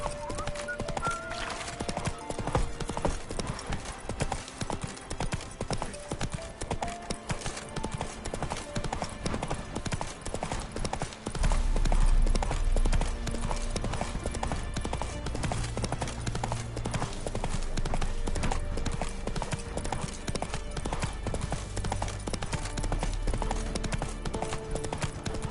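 Roach, the horse in The Witcher video game, gallops with a fast, steady clip-clop of hooves throughout, close and prominent, with a low rumble of music or ambience building beneath in the second half.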